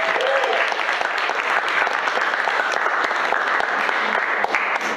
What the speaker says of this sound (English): Can we have a clap for Naomi